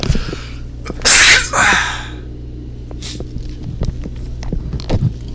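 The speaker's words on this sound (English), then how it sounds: "I just did not wanna sneeze in a camera." A single loud sneeze bursts out close to the microphone, with a short breathy second burst right after, then quiet room hum with faint soft taps.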